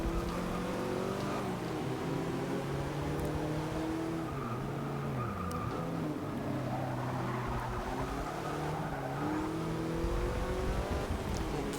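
Porsche 944 Turbo racing engine in Forza Motorsport 6, a steady turbocharged drone with rising and falling revs through gear changes, loud and continuous throughout, with other race cars faintly around it.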